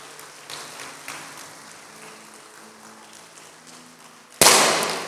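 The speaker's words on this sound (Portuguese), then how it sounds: "Gente, vamos aplaudir o Senhor Jesus." A church congregation breaks into loud, sustained applause, bursting in suddenly near the end after a stretch of quiet room tone.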